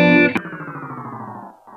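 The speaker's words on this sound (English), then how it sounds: "The last one was like a very digital version of a dive bomb." Digital guitar dive bomb built with effects in Ableton Live: a loud distorted chord struck, then a glassy, stepped tone sweeping steadily downward for over a second before a brief faint return at the end.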